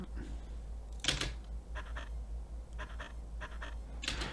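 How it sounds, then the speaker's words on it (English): A friend's dog panting on a hot summer day, captured on an iPhone: quiet rhythmic breathy puffs in short bursts over a low steady hum, faint and close. "this sample I recorded on my iPhone of my friend's dog panting on a hot summer day"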